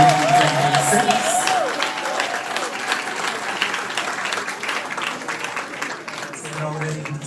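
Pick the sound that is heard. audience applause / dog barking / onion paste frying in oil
audience applause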